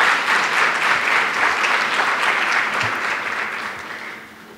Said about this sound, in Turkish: bir alkış yapın bakalım onlara da